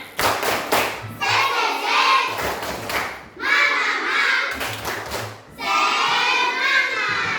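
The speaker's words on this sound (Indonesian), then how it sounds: "Tepuk 1, tepuk 2, tepuk 3, tepuk 4." A class of children at an Islamic primary school claps in quick rhythmic bursts, three distinct rounds, each followed by loud group chanting from the young voices.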